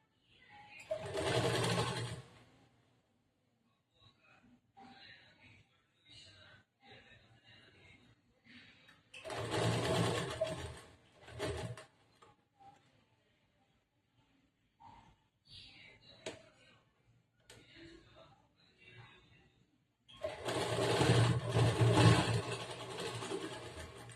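A sewing machine stitches a blouse collar a quarter inch from the fabric edge, in three loud whirring bursts separated by quieter handling noises and a woman's speech.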